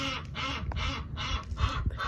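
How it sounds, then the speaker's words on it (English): Ducks quack in a steady run of loud, close calls, roughly one every half second, with rustling and lower clucks underneath. "Ducks."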